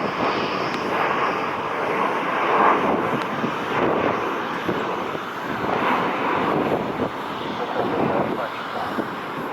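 A United Airlines Airbus A319 airliner departs Cleveland, its engine roar a steady, broad rumble that holds loud and even throughout with slight swells, heard from outdoors at the airport.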